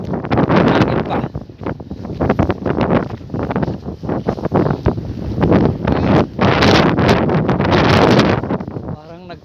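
Cold wind buffets the microphone outdoors in wintry Estonia among icy ground and bare trees, a loud continuous roaring rumble with gusty surges throughout.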